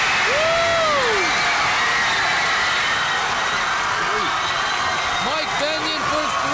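A packed high school basketball crowd erupts after a corner three-pointer, a dense, loud roar of cheering and applause filling the whole stretch with shrill whoops rising on top, while an announcer talks excitedly over it.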